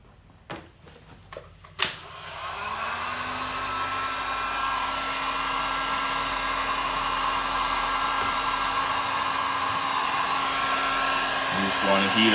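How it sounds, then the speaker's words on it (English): A heat gun blasts steadily at the silicone glue on a 2004 Yamaha R1 headlight, starting after a few sharp clicks and holding a loud, even, close whir with a faint tonal hum for the rest of the time. "I'm gonna use the heat gun"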